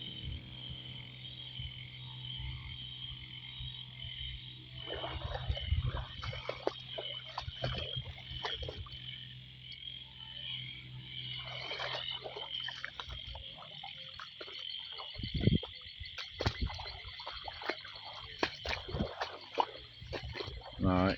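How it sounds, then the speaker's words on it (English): Two kinds of frogs croak along a highway outside a village in The Gambia after more than four hours of heavy rain overnight: a constant chorus with deeper, louder calls over it. Someone talks quietly through much of it. "Hearing two different type of frogs."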